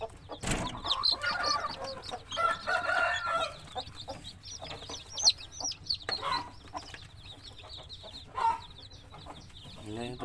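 A broody hen clucks close by among newly hatched chicks, with her soft, repeated clucks mixed with high chick peeps and people speaking in between.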